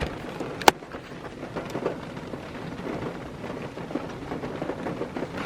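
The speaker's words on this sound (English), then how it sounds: "As you can probably hear, it's raining." Rain falls steadily outdoors at an SUV campsite, a soft, even hiss of drops throughout, broken by one sharp tap near the start.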